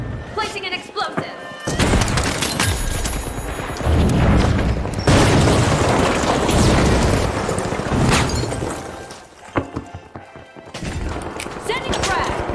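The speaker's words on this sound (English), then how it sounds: "Placing an explosive." Loud booming blasts and crashing debris from explosives going off in the first-person shooter The Finals, several heavy detonations in a row with gunfire-like bursts, close and dense, with a voice talking over parts of it.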